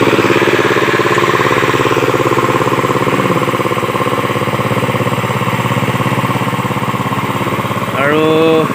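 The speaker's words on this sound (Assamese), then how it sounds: "এয়া বাৰিষা পৰিছে নহয়, ট্ৰেক্টৰ মাৰি আছে" A tractor engine runs steadily in a flooded paddy field during the rainy season in Assam, a loud continuous mid-low drone that carries on without a break; a brief higher mechanical whine rises near the end.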